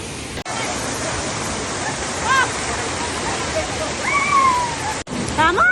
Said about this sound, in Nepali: त्यहाँ झरना छ, त्यहाँबाट पानी आएको सत्र लाएर पानी आएको छ